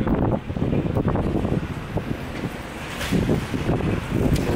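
Strong wind gusts buffet the microphone in heavy, rumbling bursts, loud and continuous outdoors.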